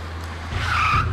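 A car skids to a halt, its tires squealing in a loud, rising screech over low engine rumble that swells toward the end of the short burst.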